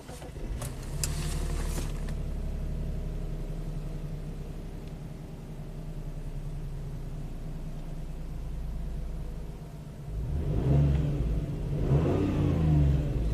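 A sluggish Subaru engine with a timing fault idles steadily, then revs up in a couple of rising bursts near the end, heard close with no talking.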